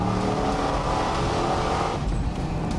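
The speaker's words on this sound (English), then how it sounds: "Fun is the sound of the Corvette's small block V8." A Corvette C6 with a small-block V8 roars with a deep, rumbling engine note that holds loud and steady, with a brief dip and surge near the end as revs change.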